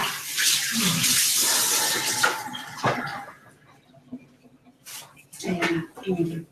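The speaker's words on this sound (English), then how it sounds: "I'll wash my hands for just a second." Tap water runs steadily into a kitchen sink while hands are washed, then stops, followed by a few splashes and clatters.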